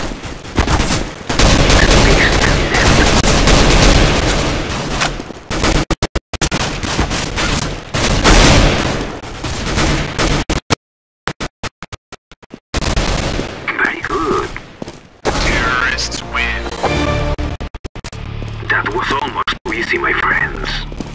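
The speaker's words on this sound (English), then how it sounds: "They are shooting at me!" Dense gunfire from the video game CS:GO, with rapid automatic bursts and repeated shots that fill most of the stretch, briefly cut out, then return in sharper volleys while a player talks over the action.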